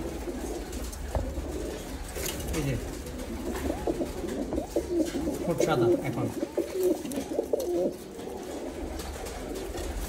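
Teddy pigeons cooing in a loft, repeated low throaty coos rising and falling close by, with someone talking over them throughout.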